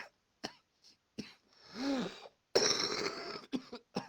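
A person coughs in a string of short, harsh bursts separated by pauses, with one longer, rougher, throaty spell partway through. The coughing is close and moderately loud, and no one speaks.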